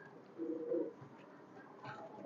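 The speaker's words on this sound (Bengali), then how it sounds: "কবুতরটা দুইটা আমি ছেড়ে দেখাচ্ছি।" Highflyer pigeons being let out give a few soft, quiet coos and murmurs in a calm setting, with no talking.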